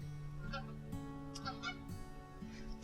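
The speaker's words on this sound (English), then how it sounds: "Geese flying over. Yeah, the geese." Geese honk as they fly over on a chilly day, a run of steady, nasal calls that repeat and step in pitch over a faint background hiss.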